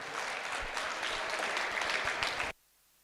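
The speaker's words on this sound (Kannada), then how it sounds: "ಇನ್ನೂ ಜೋರಾಗಿ ಚಪ್ಪಾಳೆ ತಟ್ಟಿ ಅವರ ಕಲೆಯನ್ನು ಅನುಮೋದನೆ ಮಾಡಿ." Audience applause at a Kannada stage drama, the Maina Sundari play: a dense, steady round of clapping from a crowd that holds at full strength and then stops abruptly.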